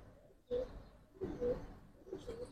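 A female pigeon from Mirpur gives three soft, low cooing calls in a quiet setting, each a short rising burst spaced about a second apart, with no talking.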